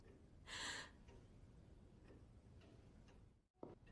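A clock ticks faintly in a quiet room, soft regular ticks about every half second after a brief breathy rustle, with no one speaking.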